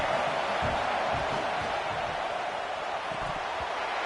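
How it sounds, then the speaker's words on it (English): A stadium crowd at a Cal versus Stanford college football game roars on a third down, a dense, steady wash of cheering voices that holds at an even level throughout. "3rd down, and the crowd really getting into it."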